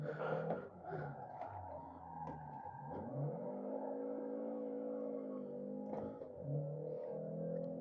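A car in the racing game Forza Motorsport 7 is driven through a turn using the e-brake and a clutch drop, its engine note holding a steady mid-pitched drone with a few shifts in pitch and no voices.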